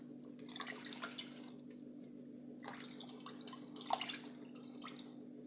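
Cardoon stalks are washed by hand under running water, giving quiet, irregular drips and splashes over a steady low hum, close by and without talk.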